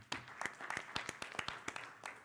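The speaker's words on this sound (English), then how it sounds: "give yourselves a round of applause" An audience at a town hall debate breaks into brisk applause, a dense patter of many hands with sharper individual claps popping through, steady for a couple of seconds.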